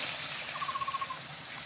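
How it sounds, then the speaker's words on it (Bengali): Water is poured into a simmering meat curry to make gravy, a brief gurgling trickle with a quick series of bubbling pulses, close and fairly soft over kitchen background noise. "একটু পানি দেবে ঝোলের জন্য।"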